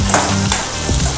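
Onions sauté in oil in a pan for paneer dosa, a close, continuous sizzle with a few soft stirring scrapes and no talking.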